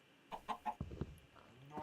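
A Minecraft chicken gives a few short, clipped clucks as it takes a punch, followed by a dull hit thump. The game sounds are moderately quiet and stand alone without talk.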